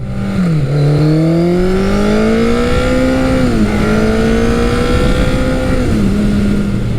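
A Kawasaki Eliminator 900 or Suzuki GS1100L motorcycle accelerates hard and close, its engine note climbing steadily through the gears with brief dips at each shift, loud and alone for the whole stretch.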